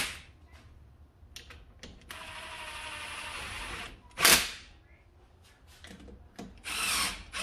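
Bolts are snugged on an aluminum engine case of a Honda Odyssey FL250 with a power tool, short whirring bursts and metallic ratcheting clicks coming close and fairly quiet, separated by brief pauses.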